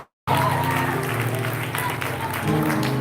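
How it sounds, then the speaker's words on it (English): A congregation at a Shabbat service breaks into sustained, dense applause with some cheering, loud and steady after a brief silence, filling the room without pause. "Let's give God a round of applause."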